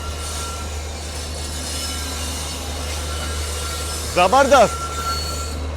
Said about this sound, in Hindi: ट्विन डीजल लोकोमोटिव के साथ कोई तो ट्रेन पहुंच रही है।